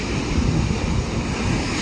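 Rough, stormy ocean surf churns continuously, a dense low rush of breaking waves mixed with wind buffeting the microphone, steady and close throughout.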